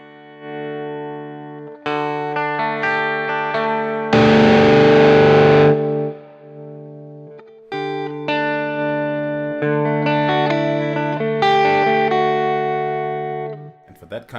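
Electric guitar through an AX8 amp modeler with the volume rolled back, so chords ring fairly clean, with a brief burst of louder noisy strumming in the middle.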